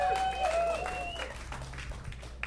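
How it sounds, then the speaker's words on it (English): Studio audience applauding guests Chippy Nonstop and Harrison on a talk show, a steady crowd clapping under bright whistles or cheers that fade after the first second. "How about another round of applause?"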